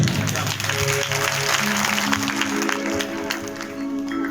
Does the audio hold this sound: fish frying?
no